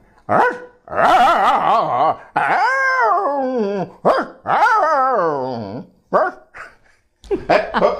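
A voice imitates a dog, giving a run of loud bark-like yelps and drawn-out whining howls in quick bursts with short pauses between.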